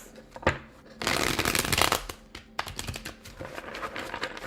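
Tarot cards are shuffled by hand in quick riffling bursts, a brief flick followed by a longer dense shuffle and then lighter tapping of the deck, close and crisp with no speech.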